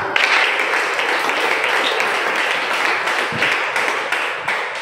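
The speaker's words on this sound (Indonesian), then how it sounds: "Oke, tepuk tangan." A classroom group applauds during a lesson on computer network and telecommunications business, dense continuous clapping from many hands, loud and close, with no talk over it.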